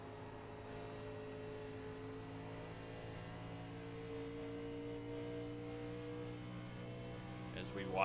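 Vintage race cars in an ORRL Rebels Classics 87 race at Charlotte Motor Speedway drone steadily as they circle the track, a continuous layered engine hum with distant commentary faintly underneath.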